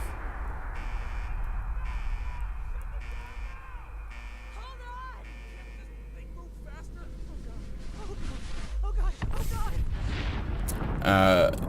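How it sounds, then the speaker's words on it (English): A nuclear bomb detonates in the video game Fallout 4, a heavy broadband blast swelling late over a steady low rumble and game sounds, loud and close. "a nuclear bomb drops."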